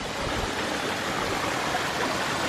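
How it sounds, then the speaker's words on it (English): A garden waterfall with a sheet-style fall, fed from a sphere, produces a steady, dense rushing hiss of falling water, continuous and even throughout with no other sounds. "It looks as if the sphere feeds the entire waterfall."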